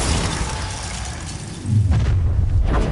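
A Confringo fire spell goes off in Hogwarts Legacy, a low boom swelling about halfway through and then rumbling steadily amid dense game effects, with no talking.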